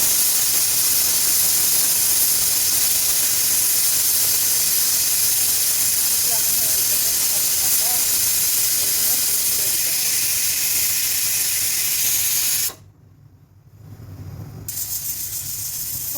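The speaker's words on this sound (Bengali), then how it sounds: "প্রেসারের শীষ আবার তুলে তুলে দিতে হয়।" A pressure cooker vents steam while cooking Pakistani-style red chicken, giving a loud, continuous hiss that holds steady for about thirteen seconds, then cuts off abruptly before a quieter rumble returns.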